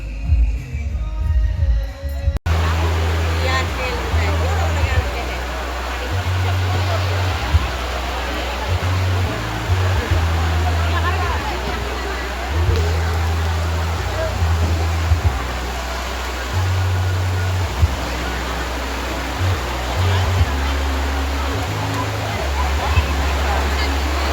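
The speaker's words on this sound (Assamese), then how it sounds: "এতিয়া পাহাৰৰ ওপৰত উঠি আছো মন্দিৰত আৰু ধুমুহা দি আছে, এতিয়া বৰষুণো আহি আছে অলপ অলপ" Stormy wind with light rain on a hilltop temple at Bhoirov Pahar: a steady broadband rush with repeated low gusty buffeting throughout, loud and close, with no clear speech.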